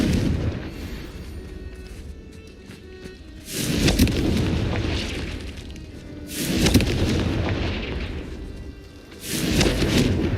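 Three heavy booming blasts of the Confringo fire spell in Hogwarts Legacy, each a loud broadband burst around 3.5, 6.5 and 9.5 seconds with rumbling tails, over a steady low game ambience.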